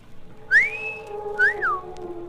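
A man's two-note wolf whistle at a girl, a sharp rising sweep followed by a rise-and-fall glide, clear and close over a faint background hum.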